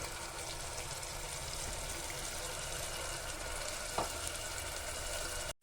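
Spices for mutton curry, with ginger-garlic and pepper powder, fry in a pan with a dense, continuous sizzle close by, one brief scrape of stirring near the end before it cuts off.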